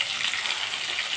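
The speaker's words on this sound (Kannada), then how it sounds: "ಈರುಳ್ಳಿ, ಉಪ್ಪು ಹಾಕಿ ಫ್ರೈ ಮಾಡ್ಕೊತಾ ಇದ್ದೀನಿ." Onions, chillies, chana dal and curry leaves sizzle in hot oil for upma, a steady close hiss and crackle throughout with no talking.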